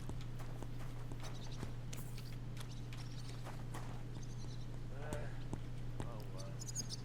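Horse hooves clip-clopping in the video game Kingdom Come Deliverance II, a steady walking rhythm of light hoof taps over a constant low hum, with a short snort or whinny partway through.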